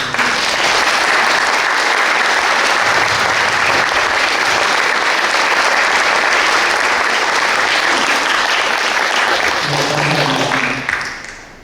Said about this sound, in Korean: 다 같이 큰 박수로 경의해 주시고 감사하겠습니다.